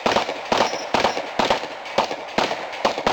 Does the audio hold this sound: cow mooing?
no